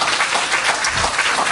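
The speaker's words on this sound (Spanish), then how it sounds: "¿Cuántos quieren darle un aplauso al Señor?" A church congregation at the First Baptist Church of Humacao applauds together in a dense, steady wash of clapping, fairly loud and close, with no voice standing out over it.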